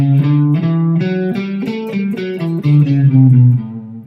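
Electric guitar with an effects unit and slight distortion plays a quick melodic line that blends A Dorian and A Mixolydian, with bright, close, sustained notes and no voice.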